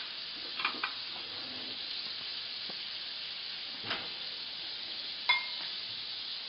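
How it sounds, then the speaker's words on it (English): Butter melting in a hot pan while frying an egg gives a faint, steady sizzle and hiss, with a few soft clicks and taps of cookware along the way. "I'm going to put some butter on here, and it should start to melt and kind of sizzle."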